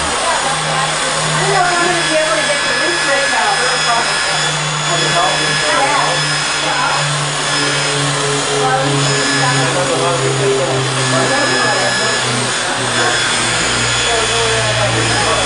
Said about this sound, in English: So to get out a scratch, you need a serious tool, the Rotary buffer.